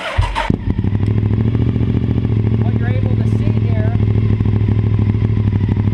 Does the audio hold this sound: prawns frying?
no